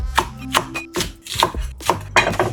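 Onion leeks being chopped on a cutting board with a knife for Vietnamese-style soy sauce chicken: a series of loose, uneven knife strikes, close and crisp, with no talking.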